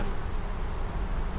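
Honeybees buzz steadily around beehives at an outdoor apiary, a dense, continuous drone that stays close and loud for the whole moment with no voices over it.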